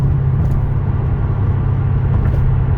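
A Toyota 1UZ-FE V8 engine runs steadily at idle, a constant low, loud rumble with no variation and no voices.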